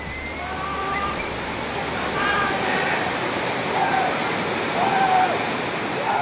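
A waterfall on a rural route in the Ulva and Rio Verde parishes of Tungurahua roars with a steady, dense wash of falling water, loud and continuous, with faint bird-like chirps drifting above the rush.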